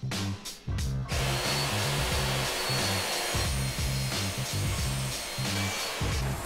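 A power tool cuts and squares up the sides of a glued-up, one-inch-thick Baltic birch plywood blank outdoors, a loud steady motor whine with pulsing, grinding cutting passes running continuously after a brief start.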